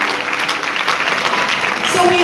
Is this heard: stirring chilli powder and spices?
no